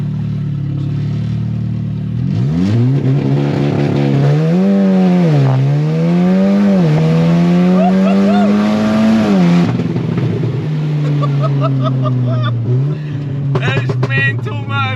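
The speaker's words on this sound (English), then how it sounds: "The exhaust is right underneath us and you can feel the flames and stuff coming out of it." A stock-turbo Audi S3 roars as it accelerates hard with the window down, its loud rising engine and exhaust note climbing through gears with brief dips between shifts, heard from inside the car.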